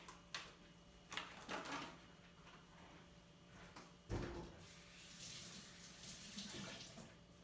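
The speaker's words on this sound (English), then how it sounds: "we're going to go ahead and wash the cilantro" Tap water running in bursts while fresh cilantro is washed at a kitchen sink, with short splashing spurts and a louder gush near the middle, close up and without talk.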